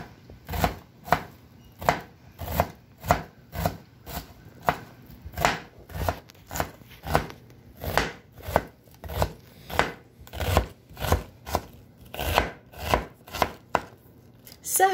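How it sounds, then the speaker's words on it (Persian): A knife chops garlic finely on a cutting board while soup is being made, a steady, brisk run of evenly spaced, close, crisp thuds that continues without pause. "سه حب سیری رو هم که داشتیم رو هم ریز ریز خورد میکنیم یا رنده میکنیم"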